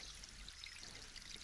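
Water in an animated children's film flows and trickles in a stream, a steady close, even rushing wash with no voices.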